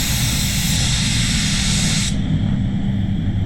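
A SATA spray gun lays down a coat of Soul Red Crystal paint in a steady, loud, unbroken hiss of atomizing air that drops slightly in brightness partway through as the trigger eases.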